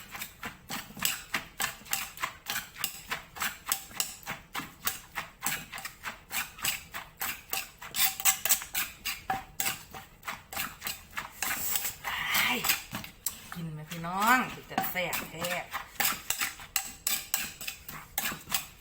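Papaya salad pounded in a mortar, a steady rapid thudding knock repeating throughout, close and fairly loud, with someone talking over it and spicy chili and garlic in the mix.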